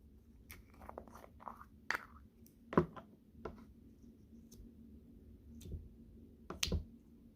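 Crunchy bingsu slime is squeezed and handled at close range, giving scattered soft crackles and sharp pops at an uneven pace over a quiet background.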